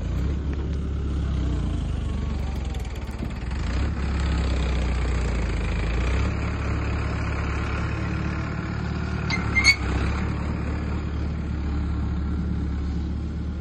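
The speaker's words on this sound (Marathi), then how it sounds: "आणले ट्रॅक్टर काढले त्यांनी बाजूला ट्रॅक्टर दुसरं ट्रॅक्टर आले" A tractor engine idles steadily nearby at a farm during the urad harvest, giving a constant low rumble throughout with one faint clank near the end and no voices.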